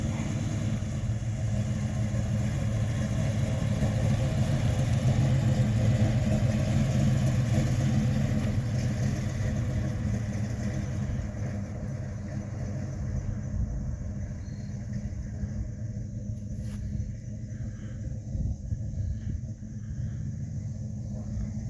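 A 1979 Chevrolet truck engine idles with a continuous low, throaty rumble. It stays steady, easing off slightly toward the end, and no one speaks.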